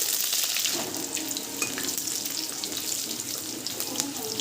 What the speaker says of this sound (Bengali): এবার তেলের মধ্যে এই যে রসুন কুচি দিয়ে দেবো।